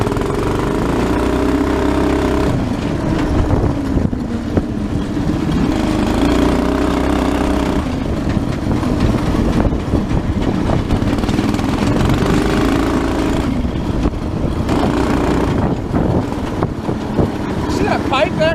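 A 420cc go-kart engine fitted with a new muffler runs loud and close, its rough idle swelling into repeated revs and falling back, a steady throaty drone throughout with people talking over it.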